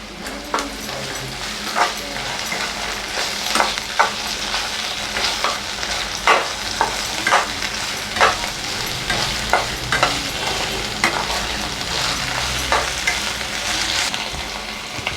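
Onions sautéing in a pan for a green chicken curry, with a steady sizzle broken by repeated scraping strokes of a spoon stirring them around, close and moderately loud with no talking.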